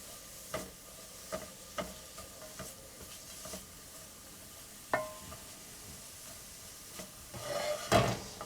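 Thinly julienned vegetables for a French potage being stirred in a pot: quiet bubbling and faint hiss punctuated by several soft spoon clinks and scrapes, one louder knock near the end, no talk.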